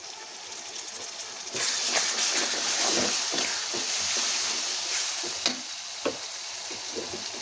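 Ginger-garlic paste and spices fry in hot oil for chicken biryani, giving a steady close sizzle with crackle and a few sharper pops near the end, and no voices.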